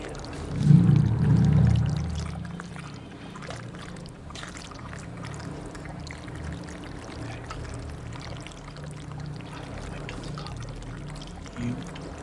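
Thick slime splashes and pours wetly at close range, a loud gloppy burst at the start that settles into quieter sloppy dripping and trickling, with a small splat near the end.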